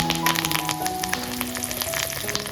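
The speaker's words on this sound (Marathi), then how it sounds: "छोटी कढई घेतली आहे त्याच्यात आपण चटणीला देतोय फोडणी सर्वात अगोदर तेल टाकलाय टाकूया कढीपत्ता" Curry leaves crackle and sizzle in hot oil, a busy close-up spitting with rapid pops over a steady hiss.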